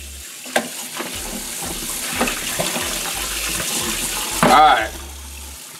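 Water runs from a kitchen tap as pork neck bones are rinsed in a bowl, with splashing, stirring and knocks under the flow and a louder gush near the end; a voice speaks briefly.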